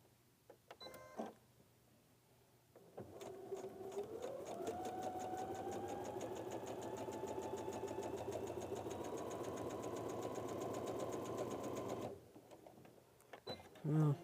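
A sewing machine stitches around a line on a quilt block in one steady run of rapid mechanical chatter of several seconds, with softer handling sounds before and after and no speech.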